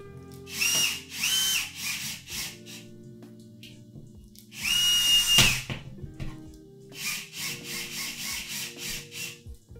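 A power drill runs in bursts during a home DIY session putting up decor, whirring loudly in three separate runs with quieter background hum between them.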